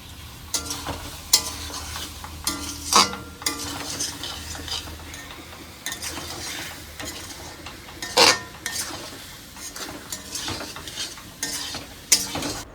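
A spatula stirs taro vegetable curry frying in a large kadai, steady sizzling underneath with sharp metallic scrapes and clinks against the pan at irregular intervals.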